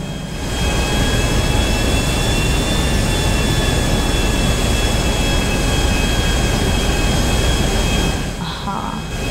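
Loud, steady roar of a stolen plane's jet engine in GTA Online, sustained and even with a faint high whine riding on top, dropping briefly near the end. A voice talks over it.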